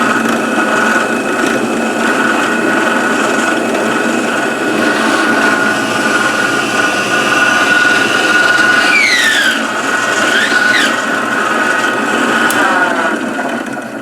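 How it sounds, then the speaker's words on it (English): Steady close-up sizzle of urad dal frying in groundnut oil as a tempering for radish chutney, with a spoon scraping and stirring against the pan throughout. "when you're drilling into a rubber, the hole is actually going to be smaller than the drill bit size"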